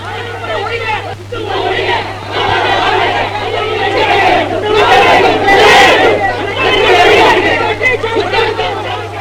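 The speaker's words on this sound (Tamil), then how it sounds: "என்ன அங்கே கூச்சல்? ஜனங்கள் ஒரே கூட்டமாக வந்திருக்கிறார்கள்." A large crowd gathered outdoors raises a loud, continuous uproar of overlapping shouts and babble, with a steady hum underneath throughout.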